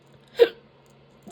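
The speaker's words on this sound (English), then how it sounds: "Oh, I got the hiccups." A single short, sharp hiccup, close and clear, followed by a faint small sound in an otherwise quiet room.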